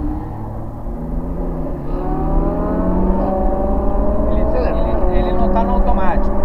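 A car engine pulls hard in second gear, its revs climbing steadily and loudly from near the middle of the clip to the end, with a harmonic whine rising over a low rumble as voices talk inside the cabin.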